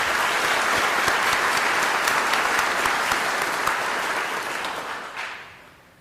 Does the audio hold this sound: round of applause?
yes